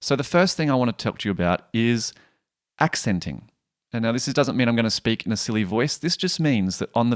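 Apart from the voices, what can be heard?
No distinct noise like a dog, phone or traffic.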